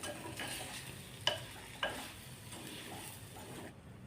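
Mango pickle mixture with sugar being stirred in a pan, giving soft, steady scraping and mixing noise with two sharper clinks, moderately close, with no voices.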